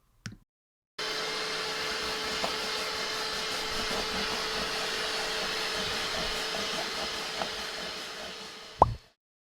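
A Bissell Little Green ProHeat portable carpet cleaner running on stained carpet, a steady whining motor drone of about eight seconds that starts and stops abruptly, with faint clicks and a final clunk.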